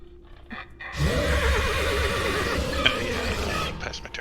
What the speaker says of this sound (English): The horses are all spooked